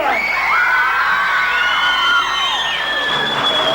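Loud crowd at a 1997 dance contest awards ceremony in Karakol, with shouting, whooping and cheering voices, whistles and high calls sweeping over a dense, close roar of audience noise.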